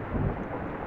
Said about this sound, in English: it's so loud, the thunder